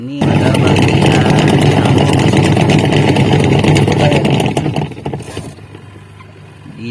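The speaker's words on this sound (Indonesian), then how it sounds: "di sini pada bagian dinamo mesin cuci dan gearbox di sana berputar teman-teman" A Polytron twin-tub washing machine's dynamo and gearbox spin with a loud, steady mechanical whir that drops off sharply toward the end, close up.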